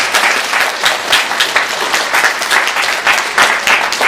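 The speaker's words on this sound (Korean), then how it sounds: "이 두 분 위해서 우리 박수로 축하하겠습니다." A church congregation applauds continuously during a Sunday service, steady dense clapping from many hands throughout.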